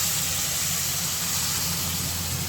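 Spices, including a five-spice tempering and bay leaves, hit hot oil in a pan for a fish curry, giving a loud, steady, close sizzle with no pauses and no voices.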